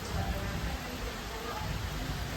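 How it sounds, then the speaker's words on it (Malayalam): Heavy rain during a thunderstorm, a dense, even roar that stays at a constant level throughout, with no distinct individual drops. "നല്ല മഴ ചെയ്തു കേട്ടോ."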